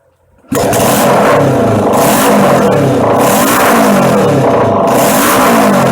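A 1975 Honda CB500T motorcycle engine fires up for the first time in decades, hot-wired, then revs loud and close with rising and falling clattery roars and no pause.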